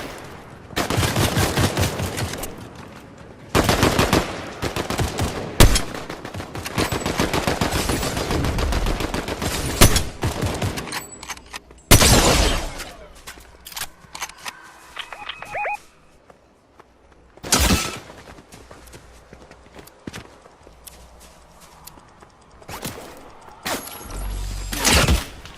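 Sniper rifle shots in the Fortnite video game, several loud, sharp cracks spaced seconds apart amid bursts of other gunfire and game sounds.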